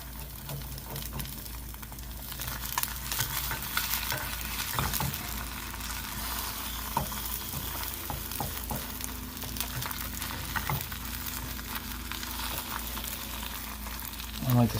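Single egg omelet with cheese frying in a pan, a steady crackling sizzle with occasional scrapes and stirring knocks, close and moderately quiet, with brief talk over it.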